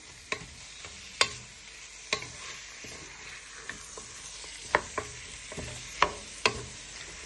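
Onion, garlic and peppers sweating in a pan, with a soft steady sizzle under sharp scattered clicks of a spoon stirring against the pan, no talk.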